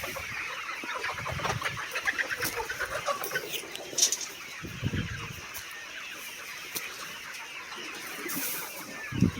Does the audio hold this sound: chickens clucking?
yes